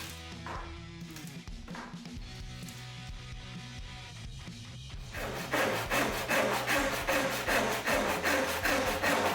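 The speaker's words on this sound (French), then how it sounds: "je prends tout simplement ma seule scie que j'ai, donc ma scie japonaise" Steady back-and-forth strokes of a Japanese pull saw cutting through wood, with rhythm speeding up and getting louder partway through, close by.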